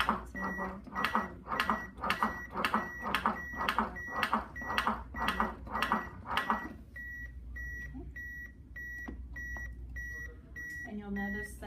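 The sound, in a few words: CPR training device beeping to pace chest compressions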